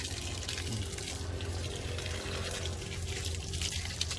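Water streams steadily onto garden plants during watering, a close, even hiss and splash that carries on without a break and with no talking.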